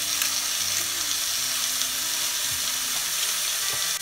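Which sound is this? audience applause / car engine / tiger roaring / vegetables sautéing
vegetables sautéing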